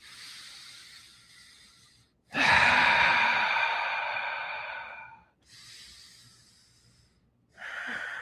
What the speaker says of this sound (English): 3 more deep breaths here.